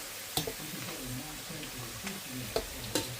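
Chips frying in oil in a pan on an electric hob set to number 8, a steady close hiss and bubbling with a few sharp ticks and clinks.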